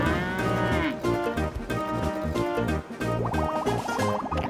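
A cartoonish cow moos on a farm in the video game Wobbly Life, a loud, drawn-out bovine call over upbeat game music, with no talking.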